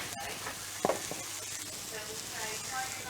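Ham and spring onions are stirred into a hot pan, giving a steady close sizzle, with one sharp clink from the spoon partway through.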